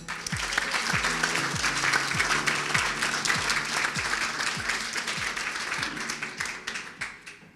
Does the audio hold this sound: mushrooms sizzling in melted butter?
no